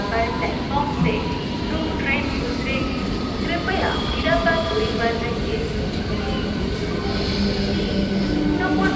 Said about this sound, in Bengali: Sealdah Suri MEMU express Sealdah two Suri.